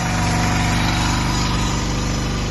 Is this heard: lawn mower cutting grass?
yes